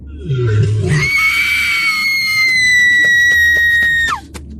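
A woman lets out a long, loud, sustained scream while running toward a building's front door, a close high wail lasting several seconds that breaks off abruptly, with rumbling movement beneath it.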